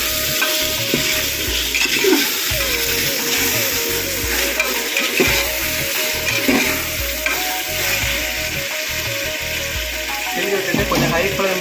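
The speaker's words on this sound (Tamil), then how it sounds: "போட்டுட்டு நல்லா கிண்டி விடுங்க." Tomatoes frying in a pan for chicken biryani over high flame, stirred continuously with steady scraping and a constant close sizzle throughout, no voices.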